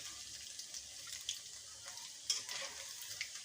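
Cauliflower and potato pakoras frying in oil, a soft continuous hiss and crackle with a few brighter pops, fairly quiet and close, with no talk.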